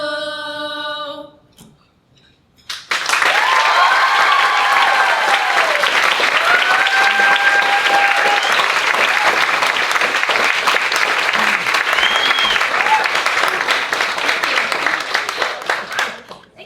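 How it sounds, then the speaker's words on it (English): Audience applause at a cabaret show at 54 Below erupts after a brief sung tone and quiet pause, then holds as loud, dense clapping with scattered cheers and whoops before tapering slightly. "We've never gotten applause before."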